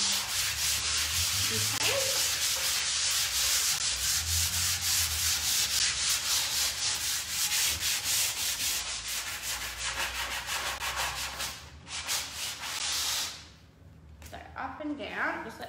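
Timber being hand scruff sanded along the grain, a steady close rubbing rasp in quick repeated strokes that fills most of the clip, easing near the end; a voice speaks briefly.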